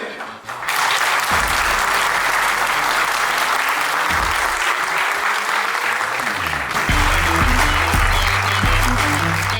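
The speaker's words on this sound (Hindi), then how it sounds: "जोरदार तालियां अपने लिए." Loud applause from the audience at a morning vendor and dealer summit, dense and sustained over background music with a low beat, swelling again near the end.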